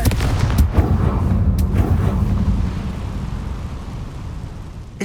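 A Confringo blasting curse cast in Hogwarts Legacy lands as a heavy booming blast, several loud thuds and cracks in the first two seconds, then a low rumbling roar fading away.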